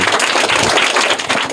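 Loud, dense applause and clapping from a school audience rewarding a student's correct answer, filling the whole short burst with steady hand claps.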